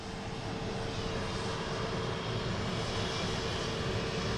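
A steady, fairly faint jet engine drone from an outbound airliner at London Luton Airport holds constant throughout, with no voices.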